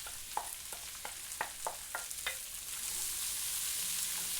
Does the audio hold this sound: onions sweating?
yes